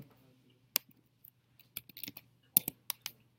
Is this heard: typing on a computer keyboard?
yes